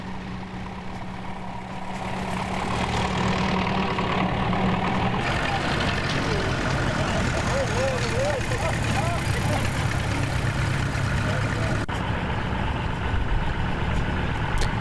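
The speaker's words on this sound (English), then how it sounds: "And vintage tractors line up for their demonstration in the main ring." Vintage tractors at a farming show run with a steady, continuous engine drone, idling and rumbling at moderate distance amid outdoor crowd noise, with people talking nearby.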